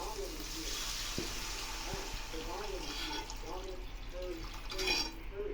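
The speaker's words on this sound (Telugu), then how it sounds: "ఇప్పుడు వాటర్ వేసేసుకుందాం." Water is poured into a pan of roasted semolina and salt for upma, a steady close splashing hiss lasting several seconds with a faint voice in the background.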